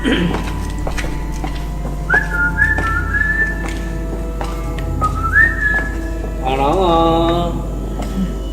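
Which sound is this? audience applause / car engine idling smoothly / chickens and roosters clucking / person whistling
person whistling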